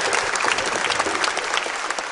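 Studio audience applause at a French-language TV talent show, a loud, even burst of many hands clapping for a contestant, continuous for the whole moment.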